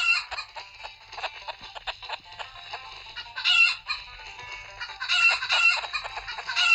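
Chickens in a video game cluck and crow in a busy, continuous cackle, with bursts of louder squawking rising and falling throughout and no talking over them.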